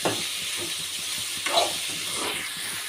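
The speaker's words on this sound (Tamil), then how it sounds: "தக்காளி நல்லா வதங்கட்டும்." Tomatoes sautéing in a pan for prawn gravy give off a steady close hiss and sizzle, with a brief stir partway through and no talking.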